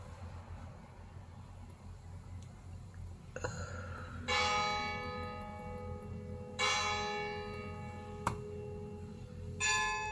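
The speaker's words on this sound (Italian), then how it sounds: "Le campane fanno ding dong dong." Church bells ring out in several separate strikes, each tolling clearly and fading slowly over a low background rumble, with a sharp knock between them.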